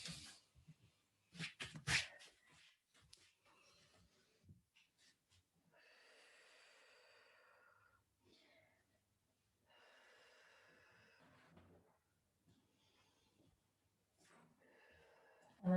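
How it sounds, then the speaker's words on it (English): Slow, deep breaths drawn and released in a standing forward-bend yoga pose. Several close, soft inhales and exhales with quiet pauses between them. "Take a few deep breaths here."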